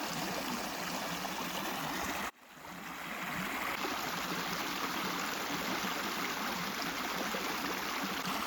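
Water from a stream flowing steadily along a village path, a continuous, fairly close rushing wash that briefly drops out before returning at full strength.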